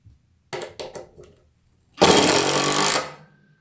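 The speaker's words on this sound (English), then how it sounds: "Put the drill on high." A DeWalt drywall screw gun whirs in a few short bursts, then runs in one longer, louder burst for about a second, driving a screw into drywall, before stopping, close by.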